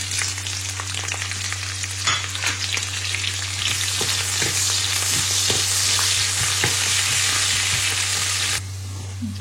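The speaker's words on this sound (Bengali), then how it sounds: "এখন এটাকে আমি পেঁয়াজ রসুন দিয়ে শুকনো মরিচ দিয়ে তেলে বাগার দিব" Onion, garlic and dried chili frying in hot oil for a tempering, a loud, close, continuous sizzle with crackles and occasional stirring scrapes, a low steady hum beneath, and the hiss dropping sharply near the end.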